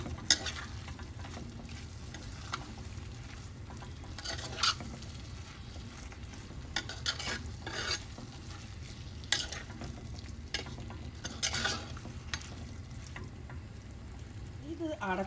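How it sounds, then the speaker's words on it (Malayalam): A spoon stirs handfuls of mint and coriander into chicken biryani in a clay pot, giving scraping strokes and soft clatters over a steady low sizzle, with a few sharper knocks against the pot. "ഇത് എല്ലാം കൂടി അതിലേക്ക് ഇട്ടിട്ട് നന്നായിട്ടൊന്ന് ഇളക്കാം."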